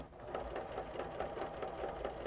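A sewing machine runs steadily through tiny zigzag stitches on lace for heirloom sewing, its rapid, even mechanical pulse loud and close throughout.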